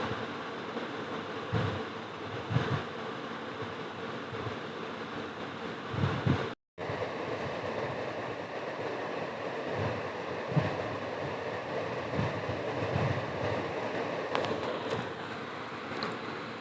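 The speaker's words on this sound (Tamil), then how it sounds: "நம்ம கட் பண்ணி வச்சுருந்த ப்ரோக்கோலி இது கூட சேர்த்துக்கலாம் ஒரு கட் நல்லா ஃப்ரை பண்ணிக்கலாம்" Broccoli fries in a pan with a constant crackling sizzle and occasional louder pops, broken by a brief silent gap partway through.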